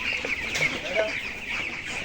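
Young 22-day-old broiler chickens cluck steadily in a poultry shed, a dense continuous chorus of many birds close by with no pauses.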